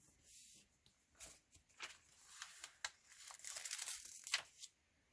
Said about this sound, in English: So you are going to peel those pieces off.